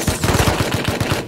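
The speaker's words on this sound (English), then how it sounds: "some gunshots on the top of a mountain near Outpost" A rapid burst of about a dozen gunshots cracks out in Rust, a loud, close automatic volley lasting just over a second with no talking.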